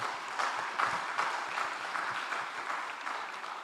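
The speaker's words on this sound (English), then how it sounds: "Let's give ourselves a good clap there" Clapping from the audience at a Horama Co-op Credit Union annual general meeting, a steady even round of applause, fairly faint and distant throughout.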